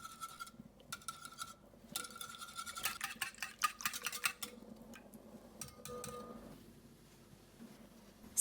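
Warm milk and eggs being whisked in a bowl for custard pancake batter, with quick, irregular ticking strokes of the whisk against the sides that slow and soften toward the end, no talking.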